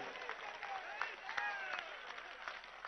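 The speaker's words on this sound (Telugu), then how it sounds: "గట్టిగా కొట్టాలి ఆ చప్పట్లో." Continuous applause from a big political rally crowd in Andhra Pradesh, a busy, even roar of many hands with occasional whistles and sharper claps poking through at moderate volume.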